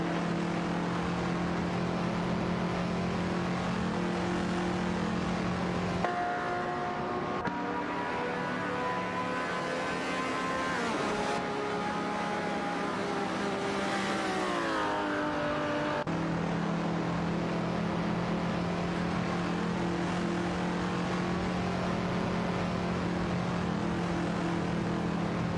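Race cars, including a Chevrolet Corvette C2DX and an Oldsmobile 442, drone loudly and continuously in a video game race, with engine pitches rising and falling through gear changes and shifting as cars pass, with no talking.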